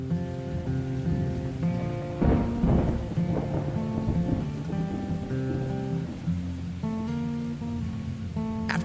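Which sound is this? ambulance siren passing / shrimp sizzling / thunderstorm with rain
thunderstorm with rain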